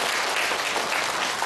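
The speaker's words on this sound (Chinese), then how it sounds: "我们再一次热烈的掌声，向华芳女士的精彩演讲表示感谢。" An audience at a symposium on characteristic town construction claps after a speech, steady, dense applause filling the whole short clip with no talk over it.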